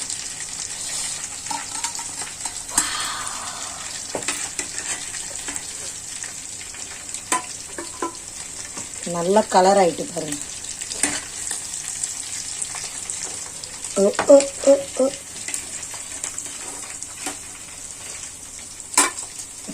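Chicken leg pieces fry in a pan in a continuous hiss and crackle, with scraping stir strokes in short clusters. A voice speaks briefly in Tamil.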